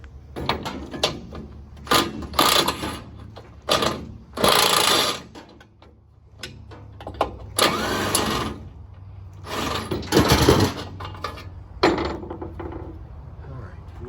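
Impact wrench taking bolts off a plate on a rotted Scania truck frame: repeated short bursts of rattling hammering, each a second or so, separated by pauses and clanks at close range.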